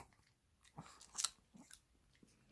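A dog biting and chewing a Korean melon snack, a few close crunchy bites and wet chews spaced unevenly over quiet background.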